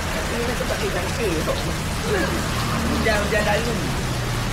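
Steady rain falls outdoors in a continuous hiss, with voices talking faintly underneath throughout.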